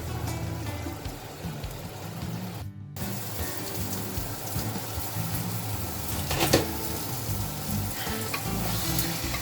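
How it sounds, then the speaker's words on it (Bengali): Young goat meat and spices sizzle in hot oil in a pan, a dense, steady crackling hiss with scraping stir sounds. It drops out for a split second and then carries on close and continuous. "মাংসটাকে ভালো করে কষাতে হবে যতক্ষণ পর্যন্ত মাংস এবং মশলা থেকে তেল না বেরিয়ে আসে।"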